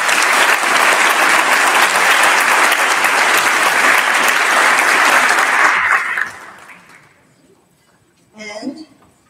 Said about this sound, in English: So please give him a round of applause for him.